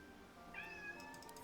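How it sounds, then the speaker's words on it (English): A pet cat gives a single drawn-out meow partway through, faint and in the background against a quiet room, with no one talking over it. "I don't know if you can hear my cat in the background."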